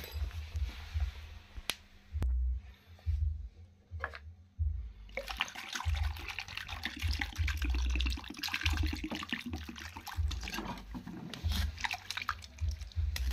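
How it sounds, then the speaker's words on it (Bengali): Water poured into a cooking pot of country chicken and giant taro, a rushing liquid splash building midway, with low thumps and clatter from handling the pot. "এখন একটু জল দিয়ে দেবো।"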